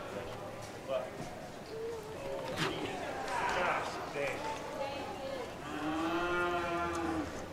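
Cattle at a novice cattle competition moo loudly at close range, with a long low call near the end, over arena noise and people talking throughout.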